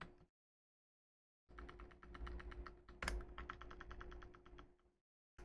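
Close, quiet clicks of computer keyboard keys come in a quick, even run for about four seconds as code is typed, after a stretch of silence.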